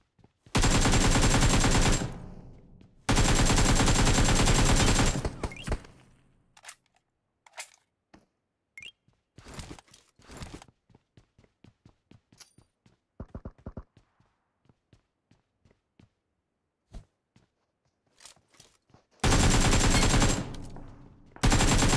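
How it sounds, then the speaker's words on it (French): Bursts of AK rifle fire in the mobile battle royale game PUBG Mobile, loud and dense, come in long sustained volleys at the start and again near the end, with scattered single shots and clicks between. "Ça part trop vite les balles d'AK en fait"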